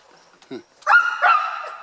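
Sled dogs on a Juneau sled dog ride, team of sixteen: a faint short yip, then one close, loud drawn-out bark or yowl trailing off at the end.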